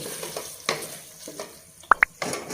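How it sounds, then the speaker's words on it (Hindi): Spoon stirring egg gravy in a pan, soft scraping and sizzling with two sharp metallic clinks against the pan near the end, close up. "3 से 4 मिनट हमने चम्मच को हिलाते रहना साथ साथ।"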